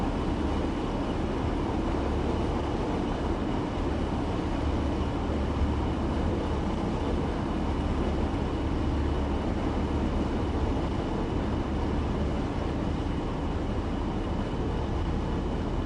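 Train in Train Sim World 2 rolling through at 15 mph: a continuous low rumble with a faint steady whine, even and unbroken throughout, no speech.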